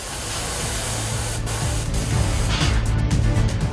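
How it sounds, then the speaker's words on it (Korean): Paint sprays steadily from a spray gun onto plastic toy parts held in a masking jig in a toy factory, a continuous close hiss with short bursts toward the end. "스프레이 작업인데요"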